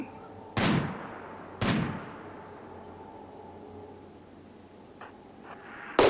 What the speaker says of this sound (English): One gunshot from a sniper rifle.